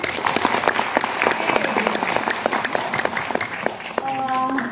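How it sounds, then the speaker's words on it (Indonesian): Dense, steady applause from an audience at an Indonesian gathering, loud and close, sustained for the whole stretch with sharp individual claps showing through. A voice rises briefly near the end. "Tepuk tangan semuanya."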